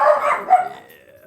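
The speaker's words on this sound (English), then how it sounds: "Set my dog to barking." A pet dog barks a few times close by, the yaps fading out quickly in a quiet indoor room.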